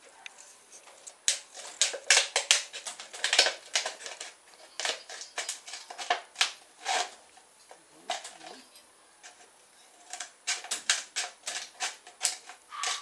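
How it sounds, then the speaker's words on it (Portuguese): Scissors cut through a PET plastic bottle with rapid crisp snips and crackles in close, irregular bursts, pausing around the middle before resuming, with faint speech in the background. "Cortou a garrafa pet, vocês agora vão cortar ela"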